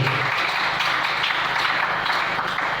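A church congregation applauding, with dense, steady clapping from a crowd filling the space evenly and loudly for the whole moment, with no voices over it.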